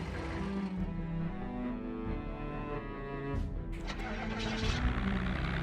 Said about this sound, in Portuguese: O motor que tá estourando, é, o motor tá bem arrebentado mesmo